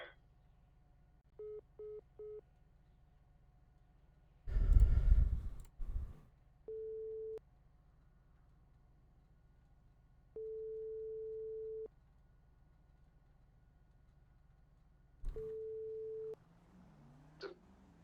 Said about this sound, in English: I called him and it instantly went to voicemail.